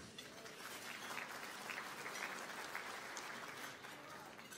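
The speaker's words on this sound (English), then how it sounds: "I think you all need to give each other a round of applause." Luncheon audience at an awards event giving a round of applause, a broad continuous roar of many hands clapping together, steady and fairly full, with faint voices and cheers blended into the crowd noise.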